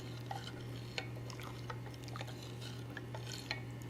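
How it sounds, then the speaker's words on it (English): Tomato chicken bouillon being poured into hot water meant for rice, with soft liquid trickles, small drips and faint stirring clinks over a steady low hum, fairly quiet. "pour your tomato chicken bouillon and stir until it's dissolved."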